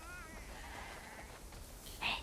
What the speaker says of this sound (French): Ça fait beaucoup trop de moutons, ça.